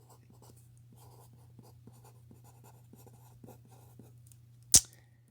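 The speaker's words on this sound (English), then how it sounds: "So let's write all that down." Quiet pen or pencil strokes writing out notes for a math example, with soft scratching taps over a low steady hum, ending in a single sharp close click.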